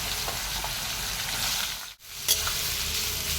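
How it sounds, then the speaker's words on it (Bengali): Onions fry in hot oil with whole spices for a mutton curry, a loud, steady close sizzle with stirring scrapes, briefly dipping before a clink and resuming. "তো পেঁয়াজটা ভাজা হয়ে যাক,"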